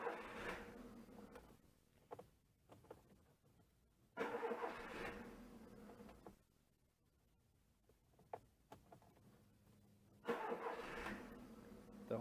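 A 2009 Spacefox starter motor cranks the engine in three faint, separate bursts of steady whirring, each lasting about two seconds, with quiet gaps between them and no voices.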